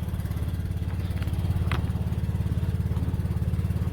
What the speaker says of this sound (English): have the engine like super revved up to go into these shuttles